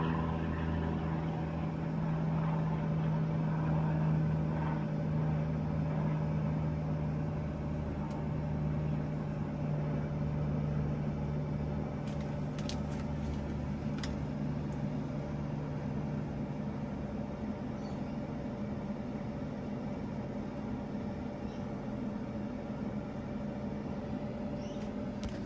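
An air fryer set to 200 degrees cooks calamari rings inside an off-grid van, a steady low fan hum and whir droning evenly throughout, quiet and unbroken, with a few faint clicks.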